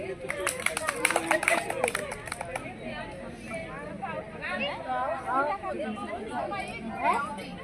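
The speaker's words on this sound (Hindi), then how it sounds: "चंपा ताली बजाओ।" Young children clap in quick bursts at an anganwadi teachers' fair in Chohtan, the sharp claps clustered in the first couple of seconds, then fading into steady chatter and children's voices.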